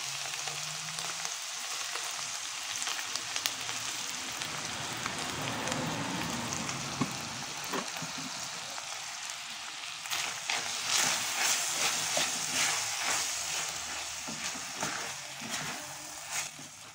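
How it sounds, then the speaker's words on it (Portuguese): Ground beef with tomato sauce sizzling and crackling in a hot pan, a continuous frying hiss with scattered pops that grows busier toward the end. "Já tá bem fritando"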